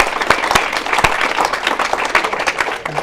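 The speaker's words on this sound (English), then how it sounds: "Let's give a round of applause for Derek." A crowd at a church service gives a round of applause, with dense, energetic clapping and sharp individual claps standing out close by, sustained throughout.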